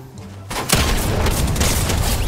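Gunfire in Fortnite, a sudden loud burst of rapid shots after a quieter lead-in, dense cracking blasts continuing close by without talk.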